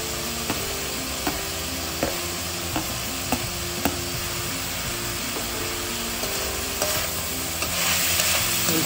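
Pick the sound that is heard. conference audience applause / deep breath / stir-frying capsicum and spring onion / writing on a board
stir-frying capsicum and spring onion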